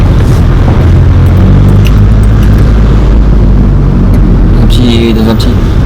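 A Cupra car's engine at night, a loud, continuous low rumble with deep booming swells, close-up and droning throughout, with brief voices mixed in.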